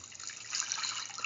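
About 200 ml of water is poured into a soy chunk tortilla wrap mixture, a brief, soft, steady splashing hiss heard close up.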